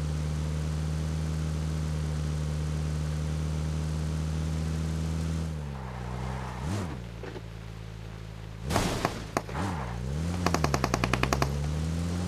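Gunfire in the video game PUBG, with bursts of automatic shots and a rapid volley near the end over a steady engine hum, fairly close.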